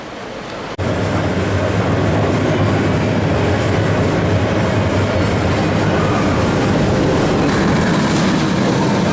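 The Ensō ride at Blackpool Pleasure Beach running, with a loud, steady rumbling and rattling clatter close by that starts abruptly and continues without a break, and no voices.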